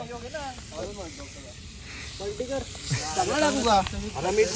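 Steam hisses from a pot of popti cooking outdoors at night in a mango grove, a breathy rushing that swells toward the end beneath people talking.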